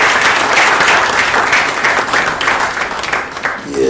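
A crowd at a book prize award ceremony bursts into sustained, loud applause, dense clapping filling the space steadily for several seconds.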